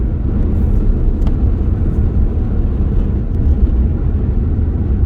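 Car interior while driving on a cold day, a steady low road rumble and engine drone, fairly loud and continuous with no talking.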